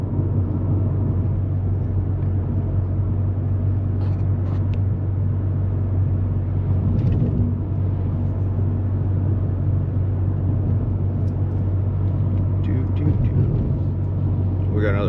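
A Honda Civic with an aftermarket cold air intake drives along a road, its steady low engine and road rumble droning continuously from inside the cabin with little change.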